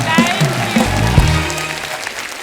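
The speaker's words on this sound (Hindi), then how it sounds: "दोस्तों जोरदार तालियां होनी चाहिए हमारे आज की मेहमानों के लिए।" Enthusiastic applause from a TV comedy show studio audience welcoming guests on The Kapil Sharma Show fills the room, steady clapping throughout with a few cheers on top.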